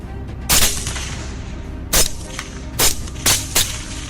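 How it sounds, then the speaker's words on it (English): Five sharp, loud gunshots from a night wild boar hunt, spaced irregularly, each a sudden bang with a brief tail, over a low background hum. "every few minutes, gunshots rang out"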